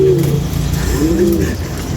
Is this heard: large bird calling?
yes